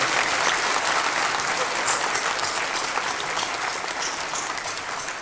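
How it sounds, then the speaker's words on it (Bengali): Loud, sustained applause from a large audience at an award ceremony for the Ekushey Padak, with dense clapping filling the space steadily from start to finish. "সবাই তাদের জন্য একটু জোরে হাত তালি সবাই"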